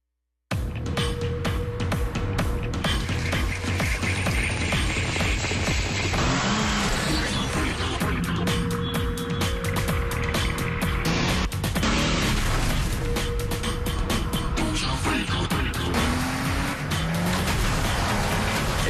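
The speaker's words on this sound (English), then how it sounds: "Introducing the Cadillac XTS with the newly available 410 horsepower twin turbo" A Cadillac XTS with a 410 horsepower twin turbo drives through a TV ad, its engine and tire noise loud and continuous under a dense mix of music and effects, with a swelling pass-by roar.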